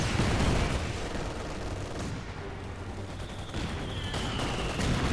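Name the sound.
machine gun fire in Company of Heroes 2 video game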